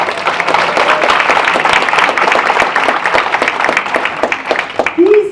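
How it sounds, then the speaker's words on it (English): An audience gives sustained applause for the Harris Quartet from Music Institute at an anniversary celebration, with dense steady clapping filling the room throughout and a brief voice near the end. "one more time, a round of applause for the Harris Quartet from Music Institute"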